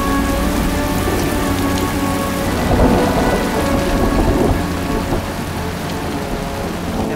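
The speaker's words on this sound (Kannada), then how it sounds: "ಜೋರಾಗಿ ಮಳೆ ಬರ್ತಾಯಿತ್ತು, ಕರೆಂಟು ಇರಲಿಲ್ಲ." Heavy rain pours steadily at night during a power cut, with a deep rumble of thunder rolling through the middle of the downpour, loud and with no voices.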